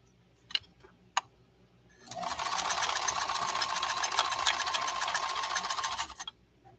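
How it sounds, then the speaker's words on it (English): A 1970s Japanese Kenmore 1231 sewing machine sews a straight stitch, running for about four seconds with a fast, steady whirring buzz after a couple of soft clicks, then slowing to a stop. "Lay down a straight stitch now."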